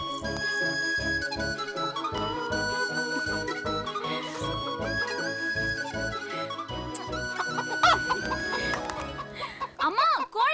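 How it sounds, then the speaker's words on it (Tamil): A chicken clucks in a busy domestic scene as a woman is told to untie it before it flies off, its calls mixed with music and voices throughout. "அம்மா, கோழி பறந்துருச்சுமா."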